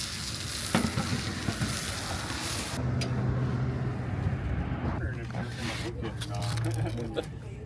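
Hot dogs fry in a pan inside a van, a steady broadband sizzle running throughout with brief clatter and handling noises, close and moderately loud.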